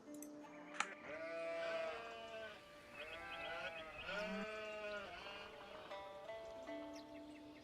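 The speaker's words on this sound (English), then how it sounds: "Zoom in on black sheep." Sheep in a video game give several wavering bleats one after another, clear and fairly close over a quiet background.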